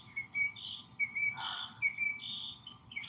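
A pileated woodpecker calling outdoors, with a series of clear, high whistled call notes repeating at a moderate distance over a quiet background.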